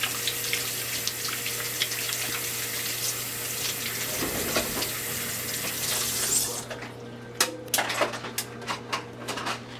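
Jalapeno peppers are rinsed under a running kitchen tap, a steady rushing hiss of water that stops partway, leaving intermittent drips and light clicks at close range.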